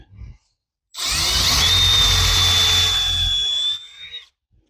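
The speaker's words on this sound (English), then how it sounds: "Looks like I better drill a pilot hole." A power drill bores a pilot hole in timber while building out an end truss, whirring steadily for about three seconds, a high motor whine rising then holding, with a low rumble underneath, then stops abruptly.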